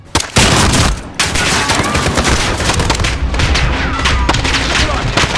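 Rapid gunfire rattles through a Call of Duty Modern Warfare street battle, dense bursts and sharp shots filling the scene nonstop, loud and close.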